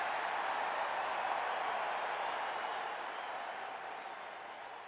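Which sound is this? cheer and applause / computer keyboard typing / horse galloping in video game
cheer and applause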